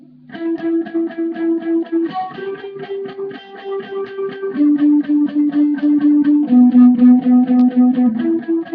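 A distorted electric guitar plays a lead melody of sustained, ringing notes that shift pitch every couple of seconds, with effects adding shimmer.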